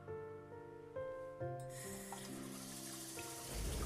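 Water runs from a kitchen tap into a glass in the video game Love and Deepspace, a steady rushing pour that rises partway through beneath a sustained musical backing.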